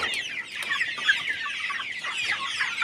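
Broiler chickens on a farm cluck and chatter in a busy, overlapping flock, a close, fairly loud stream of short calls with no talking.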